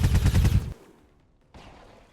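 Gunfire bursts in XCOM 2 Long War of the Chosen: a loud, dense rapid volley cut off abruptly, a near-silent pause, then a softer trailing crackle.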